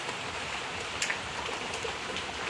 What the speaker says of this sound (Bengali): আজকে তো বৃষ্টি মারছে